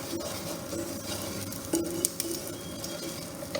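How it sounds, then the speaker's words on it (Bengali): Semolina being stirred and fried in a pan for a sweet, giving a steady soft sizzle with scraping stirs and a couple of sharper utensil clicks, close and continuous. "তাহলে সেখান ক্ষেত্রে আপনার সুজিটা ভাজা হয়ে যাচ্ছে।"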